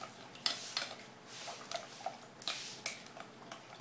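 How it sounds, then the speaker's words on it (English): Tempura batter being mixed with flour in a bowl, a series of light clicks and scraping taps of a utensil against the bowl, irregular and fairly quiet with no talking. "Have to thoroughly mix this until no lumps."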